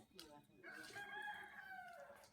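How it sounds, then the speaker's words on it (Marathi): A rooster crows once in the early morning, a long rising and falling call, fairly close and clear against a quiet background. "सकाळच्या शांत वातावरणामध्ये कोंबड्यांचा आरवण्याचा आवाज येतो"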